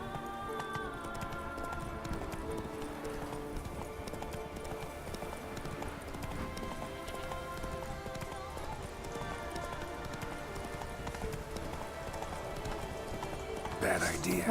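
The horse Roach gallops in The Witcher 3 video game, a rapid, continuous clip-clop of hooves at moderate volume, with someone talking over it throughout.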